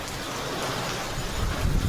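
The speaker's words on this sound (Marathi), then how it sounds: "चला पाऊस येते पाऊस." Heavy rain pours down over a village road running with floodwater, a dense, steady hiss that fills the short span and swells slightly louder toward the end.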